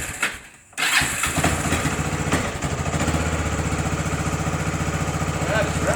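A cheap used Kawasaki Bayou 300 ATV under repair fires up after a brief quiet moment with the choke on, then settles into a steady, loud, close-up running putter.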